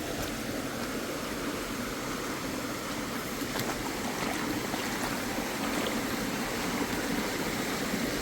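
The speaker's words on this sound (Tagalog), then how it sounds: "May maliit na ilog." A small river flows steadily at a campsite in Bailen, Cavite, a constant broadband rush of running water filling the whole clip, close and even, with no talking.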